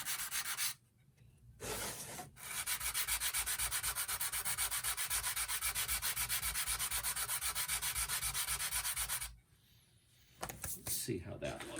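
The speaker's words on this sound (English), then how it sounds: "this is a pretty aggressive stick and it sands pretty fast" Rapid, steady rasping of an aggressive sanding stick working wood on a model roof or door, loud and continuous for about seven seconds, framed by brief pauses and short strokes at either end.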